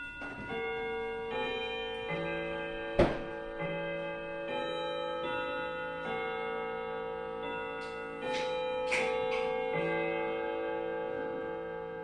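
A wind-up clock ticking steadily in a quiet room, with sustained chime-like tones ringing under the ticks and a single louder click near the middle.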